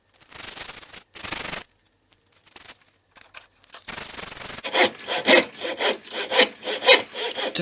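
A coping saw cuts through wood while a workshop sign is being made, with brief rasping bursts and pauses, then a run of quick, rhythmic back-and-forth strokes, close and clear.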